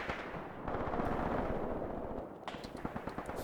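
Rumbling mortar and artillery fire in the tactical war game Graviteam Tactics, a dense continuous barrage with a run of sharper, closer blasts near the end, heard with no talk.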